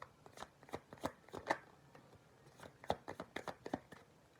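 Tarot cards being shuffled by hand in quick, irregular riffles and taps, close and fairly quiet, with no talking.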